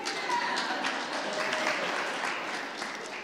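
A church congregation applauds during a sermon, a fairly soft, even wash of many hands clapping that carries on for about three seconds, heard from a distance.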